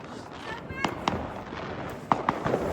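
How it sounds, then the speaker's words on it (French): Firecrackers and fireworks bang outdoors at a lively celebration, several sharp cracks popping out in an uneven cluster over a noisy crowd background with people talking. "Il y a des pétards de partout. Tout le monde allume les pétards."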